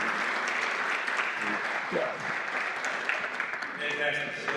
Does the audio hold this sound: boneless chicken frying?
no